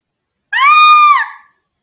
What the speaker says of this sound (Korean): 혜수가 비명을 질렀다